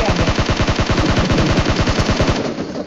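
Rapid automatic gunfire in a battle royale video game, a loud sustained burst of evenly spaced shots for nearly three seconds with no talk.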